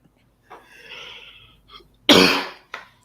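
A person lets out a soft throat-clearing rasp, then one loud, sharp cough followed by a shorter, quieter cough, all close up in an otherwise quiet room.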